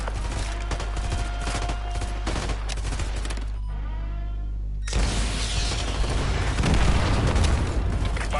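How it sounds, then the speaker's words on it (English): Missile strikes in Call of Duty Modern Warfare 2, with dense booming blasts and a crackle of rapid gunfire rolling through, a brief dip in the middle, then more heavy explosions that swell loudest near the end. "AGM missiles online."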